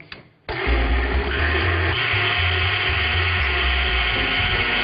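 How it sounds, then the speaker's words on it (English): Electric mixer beating egg whites for nougat: a brief clatter, then the motor kicks in loud and close with a steady high whine and whirr that runs on without pause. "let's beat the egg whites"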